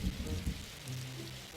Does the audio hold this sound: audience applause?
no